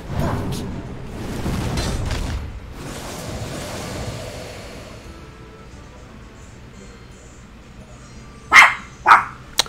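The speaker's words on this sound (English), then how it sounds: "Hold on, dog's barking" A dog barks twice, sharp and fairly close, after a stretch of quiet with low background talk and murmur.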